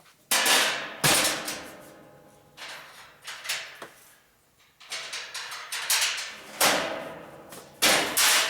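Hammer blows ring out in a workshop while shop shelves are built, sharp separate strikes in irregular bursts with pauses between, close and fairly loud with no talking.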